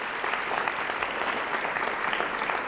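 An audience applauds at a college spring awards convocation for award recipient Deb Roney, a steady, dense wash of clapping that holds at the same level throughout.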